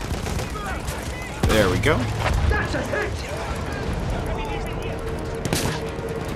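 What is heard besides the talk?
gunfire attacking a field gun in Battlefield 1 video game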